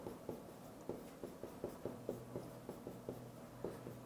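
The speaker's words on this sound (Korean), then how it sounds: "아유, 호신쌤이 글씨를 다 쓰네." Chalk or marker strokes on a board written by hand, a steady series of short scratchy taps and squeaks repeating roughly every third of a second, close and alone with no talk.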